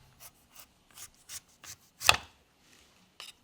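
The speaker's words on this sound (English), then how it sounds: "I'm gonna start at the top and just kind of peel it." A knife peels a root vegetable from the top down in a series of short, quiet scraping strokes, then one louder cut and a final scrape, heard close with no talking.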